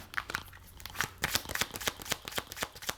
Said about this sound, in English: One more shuffle for the person in the back.